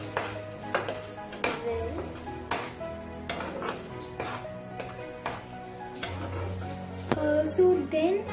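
Chilies are stirred into chicken bharta in a sizzling pan, with a spoon scraping and knocking against it in a regular rhythm about every half second, and a voice speaks briefly.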